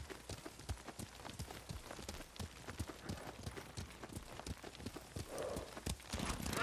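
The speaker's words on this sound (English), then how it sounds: "Lord Sakai taught me to ride a horse." Horse hooves clop in a quick, steady riding rhythm in the video game Ghost of Tsushima, continuous and close, with a faint whinny-like swell near the end.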